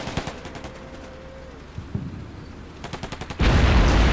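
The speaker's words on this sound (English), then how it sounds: "they're shooting at it with machine guns" Machine-gun fire from tanks in the wargame Combat Mission Black Sea: scattered bursts of rapid gunfire, fairly distant, then a sudden loud sustained roar of heavy firing at the end.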